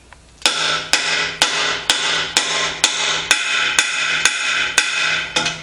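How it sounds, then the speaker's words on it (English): Eleven sharp, evenly spaced hammer blows drive a bearing race into a 1953-1962 Corvette steering gearbox, each strike a loud ringing metallic bang close by, with no talking. "You notice those last three blows resulted in a much louder pitch noise, indicating that the race had gone all the way and seated into the race receiver"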